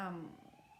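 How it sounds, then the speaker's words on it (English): An emergency vehicle's siren sweeps downward and fades as it passes, ending in a quieter steady wail with faint background noise. "I'm sorry about the sirens"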